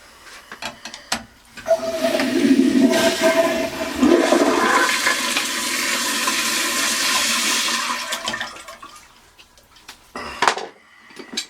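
A toilet flushes through a Sloan flushometer valve, close and loud: a sudden surge of rushing water that holds for several seconds, then tapers off into quieter trickles, with a few sharp clunks near the end and no speech.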